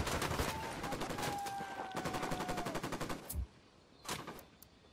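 Rapid automatic gunfire bursts in the video game Ghost Recon Wildlands, dense regular shots for about three seconds, then a couple of isolated loud shots, with no talking.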